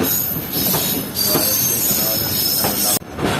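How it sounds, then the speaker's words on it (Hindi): The Sir Syed Express pulls into Khanewal Junction railway station with loud, continuous high-pitched wheel squeal over rumbling, clattering carriages, close by and sustained, with a brief dip near the end. "सर सैयद एक्सप्रेस पहुंच रही है खानेवाल जंक्शन रेलवे स्टेशन पर"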